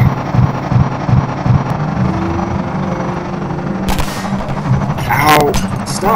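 Enemy gunfire in the video game Half-Life 2 opens as a run of evenly spaced, thudding shots over a droning engine-like hum. Sharper, louder bursts crack through later.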